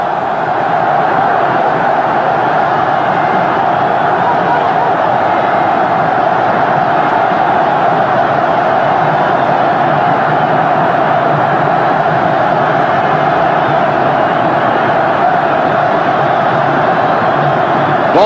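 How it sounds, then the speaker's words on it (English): A large Tunisian crowd roars in the stadium at the 1997 CAF Cup final between Espérance and Primeiro de Agosto, a dense, steady wall of noise throughout. "you can see what this large Tunisian crowd thought of that"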